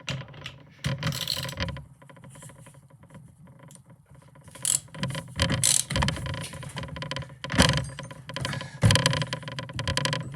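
Tools and metal parts clatter and rattle intermittently while fittings are screwed and tightened on a Bosch CP1K high-pressure diesel pump for a Mercedes during reassembly, with several louder knocks and scrapes at close range.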